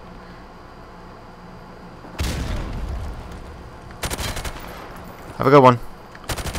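Bursts of gunfire in Modern Warfare Remastered, several short volleys of shots breaking out between quieter stretches, with a brief spoken line near the end.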